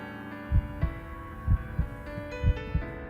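Heartbeat sound effect in the video game Path To Nowhere: soft, low double thumps in a steady lub-dub rhythm, three pairs under a quiet sustained musical drone.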